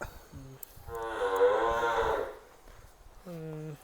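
A six-month-old calf moos close by, one long drawn-out call followed by a shorter one, with faint background noise.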